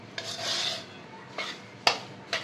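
A spoon works ghee into a besan rava laddu mixture in a bowl, making soft rubbing and scraping strokes with a few sharp metallic clinks against the dish and no voices.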